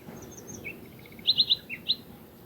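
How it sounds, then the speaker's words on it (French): A bird gives a quick series of bright, high chirps and whistles, several in a short burst, close and clear over quiet background. "Voici un son de oiseau."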